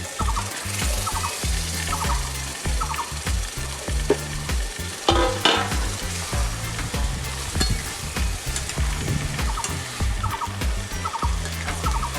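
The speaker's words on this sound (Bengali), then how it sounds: "এবারে এখানে আমি চিকেনটাকে অ্যাড করব। চিকেনটা অ্যাড করছি।" Chicken pieces go into hot frying masala in a pan for Hyderabadi chicken gravy, bringing a loud steady sizzle with stirring scrapes and clatter throughout.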